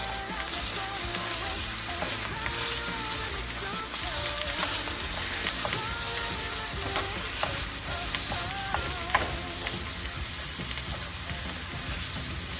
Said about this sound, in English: I'm going to start chopping this ground beef like so